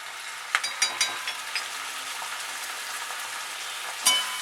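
Paneer chilli being stirred in a pan with soy sauce and masala, giving a soft, steady sizzle with a few sharp clicks of a spoon against the pan.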